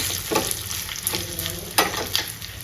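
Fenugreek seeds, dried red chillies and curry leaves crackle and sizzle in hot oil up close, with scattered sharp pops and stirring scrapes over a constant hiss.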